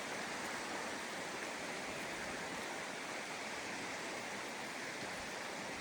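Water runs through small channels in a marshy forest, a steady, dense rushing hiss that stays even and close from start to finish.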